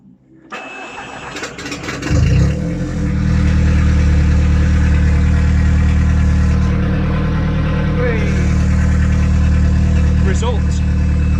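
A turbocharged car engine running an Ignitron ECU cranks, catches and settles into a loud, steady, slightly lumpy idle that holds for several seconds, recorded close by.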